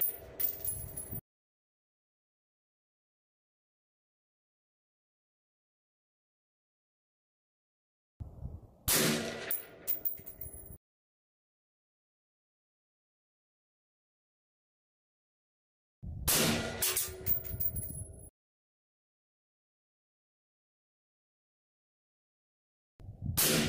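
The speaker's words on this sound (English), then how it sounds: "so I'll shoot the same targets." Suppressed gunshots hitting steel targets outdoors, heard as four separate shots spaced several seconds apart. Each is a sharp report followed by a ringing metallic clang, with silence between them.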